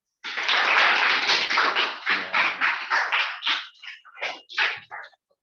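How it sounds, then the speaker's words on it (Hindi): Students in a classroom clapping their hands together, a loud burst of crowded applause that breaks into rhythmic, uneven group claps and tapers off, no speech. "अब ताली बजा के दिखाओ"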